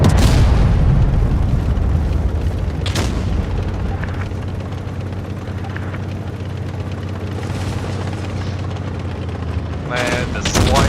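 Heavy tank cannon fire in an armored combat video game from a KPz 70, loud booming shots at the start, near 3 seconds and around 10 seconds over a constant low engine rumble.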